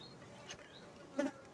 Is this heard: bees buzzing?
yes